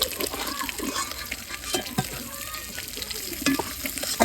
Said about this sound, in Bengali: একদম এই পাশে একেবারে লাল লাল করে ভেজে নিচ্ছি